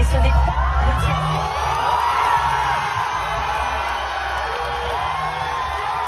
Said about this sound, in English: That was the sound of people celebrating the surprise left-wing victory.